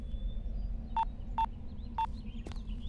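A mobile phone number is dialed, three short evenly spaced keypad tones beeping clearly over a low steady room hum.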